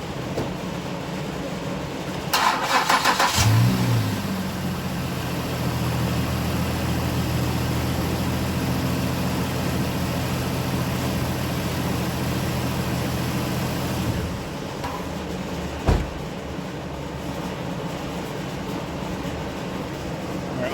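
A car engine cranks and catches after an oil drain plug replacement, then settles into a steady low idle for many seconds, followed by a single sharp knock near the end.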